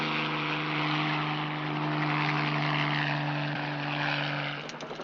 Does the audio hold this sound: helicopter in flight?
yes